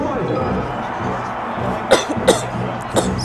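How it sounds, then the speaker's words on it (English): A commentator with a cold coughs three times in short, sharp bursts at a Super Smash Bros. Melee tournament in the Netherlands, over a steady murmur of background noise. "My coughing."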